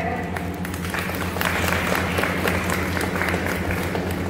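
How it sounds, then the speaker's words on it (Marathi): An audience at a live recipe show applauds in a dense, steady wash of clapping, with crowd murmur and voices mixed underneath. "टाळ्या"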